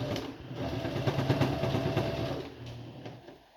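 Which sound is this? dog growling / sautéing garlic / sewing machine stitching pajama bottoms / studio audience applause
sewing machine stitching pajama bottoms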